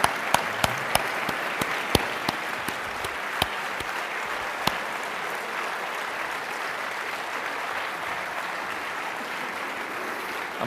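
Thunderous applause from a big audience after a speech, a dense wash of clapping with a few sharp individual claps standing out early on, holding steady for about ten seconds.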